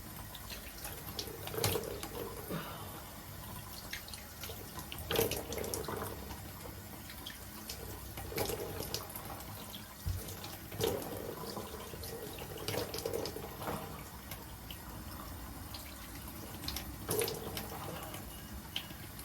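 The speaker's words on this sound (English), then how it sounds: "when I'm washing my face" Steady running water from a bathroom sink tap while a face is washed, a continuous close hiss and splash with occasional louder splashes and drips, no talking over it.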